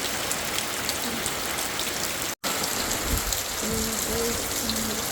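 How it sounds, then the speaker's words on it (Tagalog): Heavy typhoon rain pours in a dense, unbroken hiss, with a brief dropout midway and a few faint low tones late on. "ang lakas-lakas ng ulan dito sa amin at hangin"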